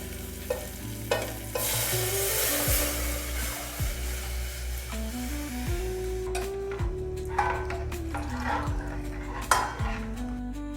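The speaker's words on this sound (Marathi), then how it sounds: "आता जो आपण दहीचा आणि पिठाचा जो मिश्रण तयार केलेला होता तो टाकून घेऊया" A yogurt and gram flour batter for kadhi is added to hot tempering in a pan, with steady sizzling, frying noise and a spoon stirring and clinking against the pot, close and continuous.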